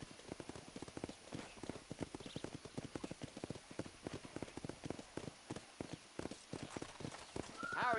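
Horse hooves gallop in a fast, steady clip-clop rhythm in the Western video game Red Dead Redemption, close and continuous throughout, with a brief louder burst of sound at the end.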